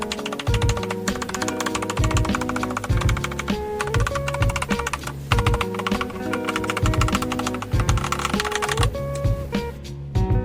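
Rapid, continuous typing on an AKKO 3098 mechanical keyboard with gold pink switches, foam-dampened case and silicone bottom pad, close and crisp with dense overlapping keystroke clacks throughout.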